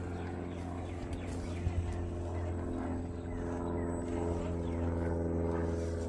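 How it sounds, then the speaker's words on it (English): A propeller airplane drones overhead, a steady low engine hum with tonal bands that holds evenly throughout, fairly faint and distant, alongside light outdoor noise from testing a small RC4WD Trail Finder 2 truck. "Got airplane flying overhead."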